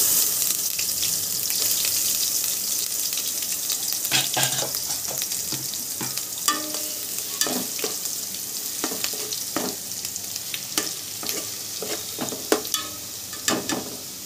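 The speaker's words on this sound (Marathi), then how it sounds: "आता त्याच्यामध्ये जो मसाला होता ना त्यातला अर्धा मसाला आपण ह्याच्यात घालायचा" Spice masala sizzles and fries in hot oil in a home kitchen, a steady bright hiss broken by scattered stirring clinks and scrapes throughout.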